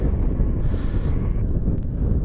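Wind buffets a Bluetooth helmet microphone (UClear Motion6) outdoors in windy, snowy weather, giving a steady, close, loud rumbling roar with no talk over it.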